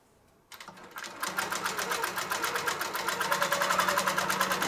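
A Grace Q'Nique 21 Pro longarm quilting machine sews binding onto a quilt, starting after a short silence with rapid, evenly pulsing stitches that quicken and grow louder, close and alone.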